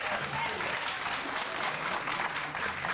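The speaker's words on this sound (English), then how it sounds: "There's no applause, please." Audience applause breaks out in a legislative committee hearing room, a steady dense wash of clapping held at moderate distance for the whole stretch.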